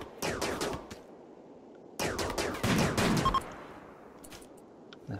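Colonists fire guns in RimWorld, with two bursts of rapid, crackling shots separated by a short pause, followed by a few scattered faint pops as the firing tapers off.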